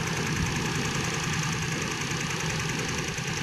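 A car engine idles with one spark plug wire pulled off, giving a steady, continuous rumbling drone with a faint knock and vibration and no speech.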